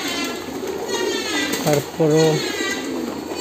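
Pigeons cooing in a pigeon loft, a couple of short throaty coos near the microphone over a steady background murmur, with a person briefly speaking.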